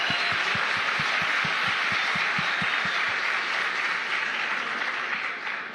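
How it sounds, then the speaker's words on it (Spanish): Full, sustained applause from an audience at a book fair talk, dense and even, with some rhythmic lower thumps early on, fading slightly at the close. "Un aplauso para Marco."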